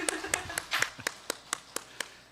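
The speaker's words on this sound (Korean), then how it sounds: "우리 박수 한번 하겠습니다" A short run of sharp, evenly spaced hand claps during a church Sunday worship service, about nine in a row, fairly close, with faint room noise between them.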